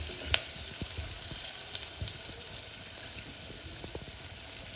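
Masala rice ingredients with grated dry coconut sizzle steadily in a pan while being stirred, a close, continuous frying hiss with faint spoon clinks and no voices.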